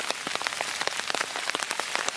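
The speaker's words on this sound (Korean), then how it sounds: "오늘은 비가 오는 날" Rain falls steadily on a forest walking path in Seoul, a dense close patter of drops hitting the ground and leaves with no voices.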